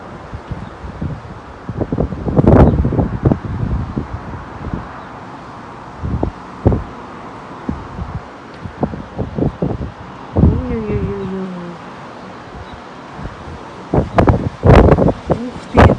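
Strong, gusty wind rises in Moscow ahead of a storm, with a distant sandstorm lifting dust. It comes as loud rustling blasts and buffeting bursts over a steady windy roar.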